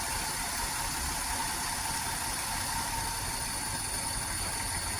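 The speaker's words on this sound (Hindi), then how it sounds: "देख रहे होंगे कितना ज़्यादा इंजन हंटिंग कर रहा है।" A Maruti WagonR engine idles with hunting and misfiring, a steady, fairly quiet mechanical drone with a faint uneven roughness running throughout.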